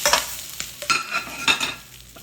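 Green and red bell peppers sizzle in a hot pan alongside steak, with several quick spatula scrapes and clinks over a continuous frying hiss, close and fairly loud.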